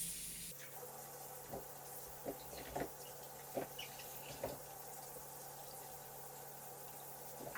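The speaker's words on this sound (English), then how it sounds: "The next step is simply just to wash them. Don't need to go too deep, just get all the surface areas a good scrub." Tap water runs faintly into a sink as steaks are washed, a soft steady stream broken by scattered splashes and clatters of handling, with no voices.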